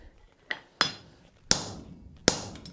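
Four sharp metallic hammer strikes on a copper rivet joining forged copper tongs, spaced irregularly with ringing decay after each blow, close and clear with no talking.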